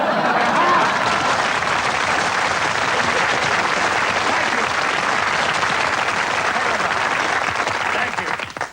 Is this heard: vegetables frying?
no